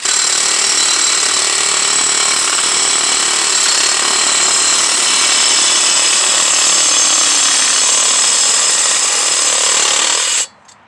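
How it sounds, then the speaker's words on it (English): A DeWalt 12V Extreme cordless reciprocating saw cuts steadily and loudly for about ten seconds, its harsh buzzing filling the clip before stopping abruptly near the end. "I just thought it was kind of cool to, you know, see the quality and how good this Sawzall works."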